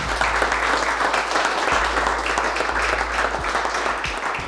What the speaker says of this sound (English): round of applause for the Ferda Fork